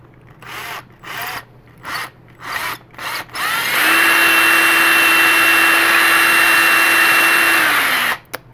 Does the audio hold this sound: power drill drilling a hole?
yes